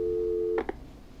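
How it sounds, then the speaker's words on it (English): A steady telephone tone from the video game Killer Frequency hums alone at a moderate level, then breaks off into two short beeps as a call hangs up. "I think it's time for me and Maxie to free up your phone lines"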